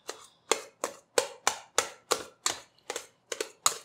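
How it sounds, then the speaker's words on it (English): Metal tongs break up stewed lamb meat for birria in the pot, giving about ten sharp, crisp clacks in a steady, even rhythm, close and fairly loud, with no talking. "Now, just with my tongs, I'm going to kind of break this meat up."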